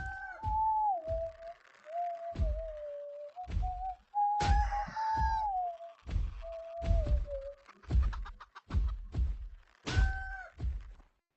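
Chickens in the VR game UG cluck and squawk repeatedly, mid-distance and fairly faint, their pitched calls broken up by frequent dull thumps and thuds, with no talk.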